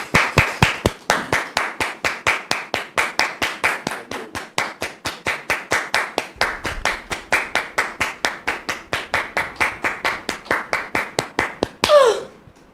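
An audience welcoming a guest onto a stage with rhythmic, evenly spaced group clapping that keeps a steady beat for about twelve seconds before a brief burst of voice at the end.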